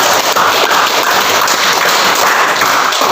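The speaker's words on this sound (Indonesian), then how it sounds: "Itu tepuk tangan untuk itu." Classroom applause from a group of students, a steady dense patter of many hands clapping together that carries evenly through the whole stretch with no one speaking.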